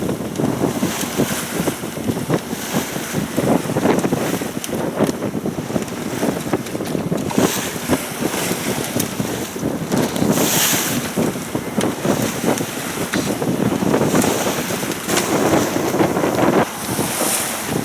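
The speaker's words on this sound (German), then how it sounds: "Darum sind wir mit dem Motor unterwegs" A sailboat motoring through rough, choppy sea off Croatia, with loud gusting wind buffeting the microphone and waves slapping and rushing against the hull throughout.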